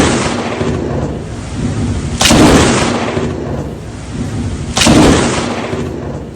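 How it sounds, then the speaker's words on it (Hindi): Lightning strikes with thunder over Mathura, Uttar Pradesh, after continuous rain: two loud, sudden cracking booms a few seconds apart, each rolling off over a constant roar of rain. "उस वक्त कैमरे में कैद हुई बिजली कड़की आसमान में"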